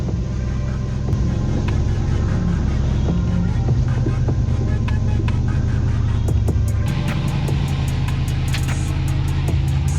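An off-road vehicle's engine throbs steadily and loudly as it climbs polished granite boulders on a trail, a continuous close drone that shifts in tone partway through, with faint ticking above it.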